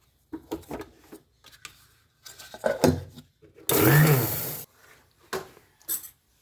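Grinder coarsely grinding sesame seeds for gajak, one loud whirring burst of about a second among soft rustles and handling noises in a kitchen.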